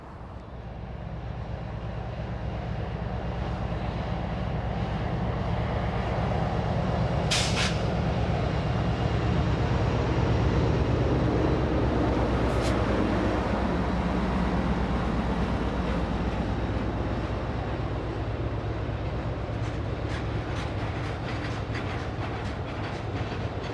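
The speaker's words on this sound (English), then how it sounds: "both engines pulling and pushing all the way up over to the top" A heavy train climbing the Lickey Incline, with a banking engine pushing at the rear, labors steadily with a continuous deep rumble and rhythmic clatter, loud and close throughout, with brief hissing bursts along the way.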